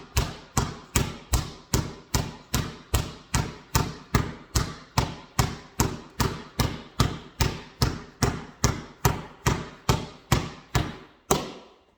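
A basketball pounded hard and fast against a floor, about thirty sharp, evenly spaced bounces in a steady rhythm, close and loud, then it stops.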